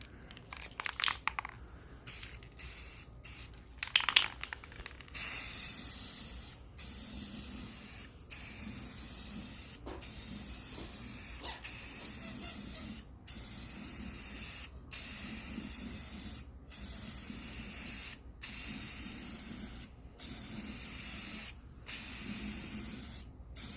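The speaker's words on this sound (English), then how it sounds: "So we'll let it dry for 5 minutes and we'll come back and hit a clear coat on it." Aerosol clear coat spraying onto car wheels being restored with Rustoleum paint, a string of loud hissing bursts of a second or two each, separated by brief pauses, with no talking.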